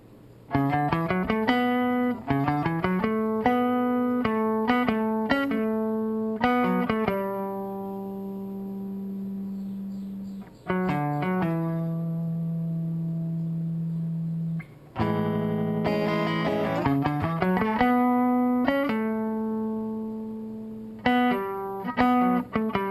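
Guitar harmony overdub from a song: sustained, slightly overdriven notes and quick plucked runs layered over held chords, loud and close, with long ringing tones between busier passages.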